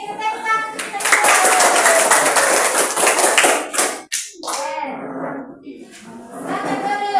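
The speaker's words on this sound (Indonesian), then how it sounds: "Kita tepuk tangan untuk kita semua." A classroom of students claps together at a teacher's prompt, a loud dense burst of many hands lasting a few seconds, then breaking off into scattered voices and chatter.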